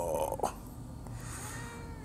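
A cat meows once briefly over a steady room hiss and low background noise, with a soft rustle afterward.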